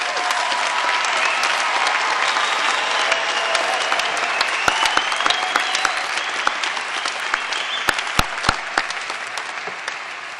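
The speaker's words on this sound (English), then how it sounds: "I would like everyone to give a round of applause to this year's graduates" Sustained applause from a large audience at the Concordia University convocation in 2010, honouring the graduates; dense, steady clapping fills the space with faint voices and a few sharper claps standing out near the end.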